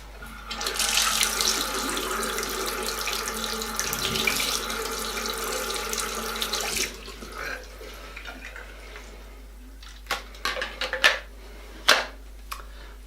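Tap water runs steadily into a water flosser's tank for several seconds, then stops, followed by scattered drips, clicks and handling noises.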